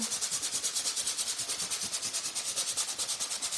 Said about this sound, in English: I'm going to use a 100 piece of sandpaper